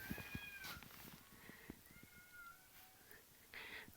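Two village cats square off outdoors in a rural yard, trading drawn-out, wavering meows and low growling yowls in a tense standoff, moderately near with faint ambient background noise.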